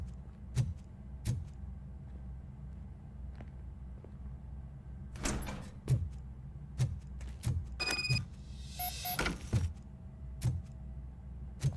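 A door opens in the video game RoboCop: Rogue City with a series of heavy thuds and footfalls, a burst of mechanical rattling and a short electronic chirp, fairly quiet against a low background hum.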